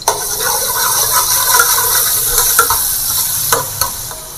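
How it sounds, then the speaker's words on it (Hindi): Ground garlic sizzling in hot desi ghee and being stirred in a pan for a Peshawari namkeen gosht, a steady close frying hiss with scraping stir strokes throughout, no talk. "लहसुन पीसा हुआ ये डाल लेते हैं, चला लेते हैं थोड़ा सा।"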